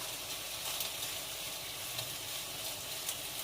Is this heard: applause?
no